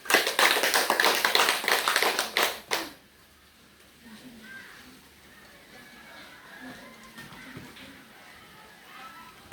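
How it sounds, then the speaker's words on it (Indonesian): A classroom of students claps for a classmate in a short, brisk burst lasting under three seconds, then quiet room noise with faint voices. "Tepuk tangan untuk Putri"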